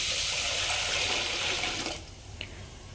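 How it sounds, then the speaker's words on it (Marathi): Basmati rice is washed under running water in a vessel, with a loud, steady rush of water for about two seconds. The flow then stops, leaving faint trickles and a small clink. "तो आता धुवून घेते छान 2 पाण्याने"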